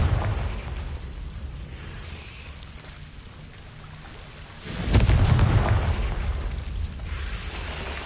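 Blasting spell explosion in a wizarding video game, a single mid-clip burst that swells loud and rumbling before fading into a steady rain-like hiss.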